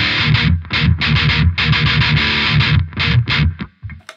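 An electric guitar runs through distortion, a rough speaker simulation and a noise gate. It plays chopped, gritty chords in quick rhythmic bursts, and the gate cuts each one off to near silence. It is close and loud, with no talking.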